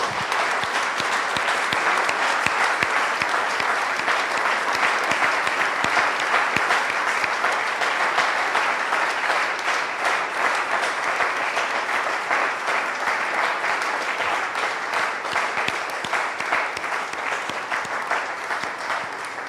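A church congregation applauding during an evangelical healing service, a dense, steady wash of many hands clapping that fills the whole stretch at constant loudness, with no talk over it.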